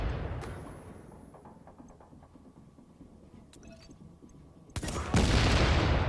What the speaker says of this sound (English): Again, explosive bullets.